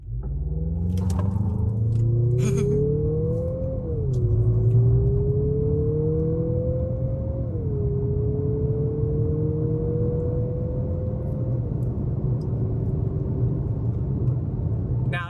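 A Mazda CX-50 engine revs up through several gears in manual mode during a 0 to 60 run, the pitch climbing then dropping at each shift, loud and steady from inside the vehicle.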